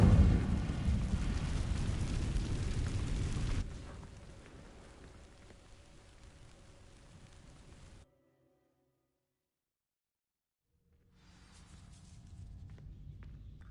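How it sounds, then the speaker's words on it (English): A fire spell sets dry vines ablaze in the Hogwarts Legacy video game: a loud, roaring, crackling burst for about four seconds that thins to a softer hiss, cuts to silence, then a low rumble returns. "These dry vines are one spark away from becoming kindling. Incendio!"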